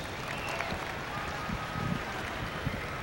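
A crowd at a modified tractor pull in Louisville, Kentucky gives a faint, distant round of steady clapping that runs unbroken for a few seconds.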